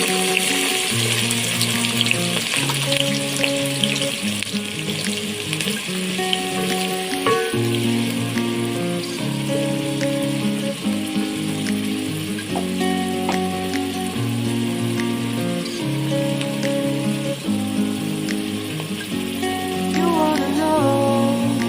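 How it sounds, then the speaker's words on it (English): Onions frying in a pan until golden brown, with a continuous crackling sizzle, close by, mostly covered by steady background music throughout. "I'm going to start by frying my onions until they are golden brown"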